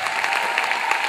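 A short burst of dense, even audience applause at a live Black Girl Monologues show, steady and fairly loud throughout.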